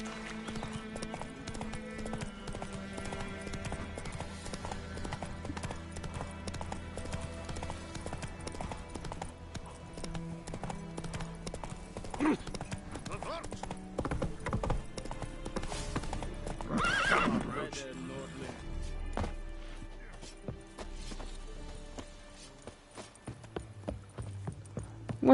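Roach the horse in Witcher 3 gallops with steady rapid clip-clop hoofbeats and gives a neigh partway through, over game music, with occasional voices.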